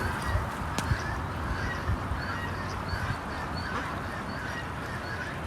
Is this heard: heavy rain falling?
no